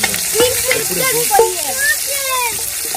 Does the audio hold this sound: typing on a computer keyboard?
no